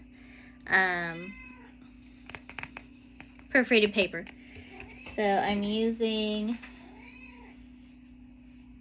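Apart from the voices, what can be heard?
cat meowing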